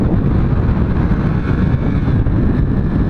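Engine of a Benelli TNT150 motorcycle while riding, a steady loud low drone that fills the whole stretch, mixed with rushing wind noise from movement.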